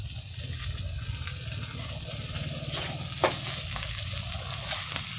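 Sliced vegetarian beef sizzles steadily in a hot pan as seasoning is stirred through, a constant frying hiss with occasional soft scrapes of the utensil, no voices.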